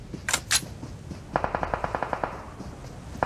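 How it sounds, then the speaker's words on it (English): Automatic gunfire from squads in PUBG Mobile with an M4, two sharp shots followed by a fast, even burst of about a dozen rounds, moderately distant with quiet ambience around it. "the explosiveness of gunshots from Squad 6 and 7"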